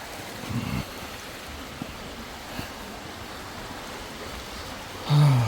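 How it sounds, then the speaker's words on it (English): Steady broadband rush of a flowing stream in northern Arkansas, continuous and even, with a couple of brief low thumps near the start and end. "The relaxing sounds of water."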